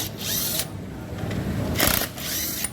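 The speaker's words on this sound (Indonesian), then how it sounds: "Ini suara motor di bagian CVT ya," Honda Vario scooter's CVT transmission running with its case opened, a whirring, grinding drone that swells and fades in bursts, moderately close and without speech.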